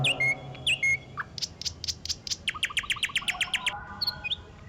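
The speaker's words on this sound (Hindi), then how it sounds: "पक्षियों की चहचहाट" Birds chirp in a garden at dawn on a summer morning: clear, close tweets and quick repeated call sequences, bright and fairly loud, with a few squawky notes and no voices.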